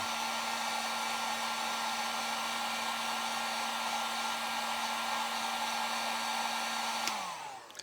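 A hot-air tool blows in a loud, steady, close whoosh with a constant hum while heating a Hasbro Fortnite Cluck toy figure during repair, then cuts off abruptly near the end.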